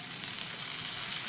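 Chopped tomato fries in a pan with ginger, green chilli and curry leaves, giving a steady, moderate hiss of sizzling oil with no talk over it.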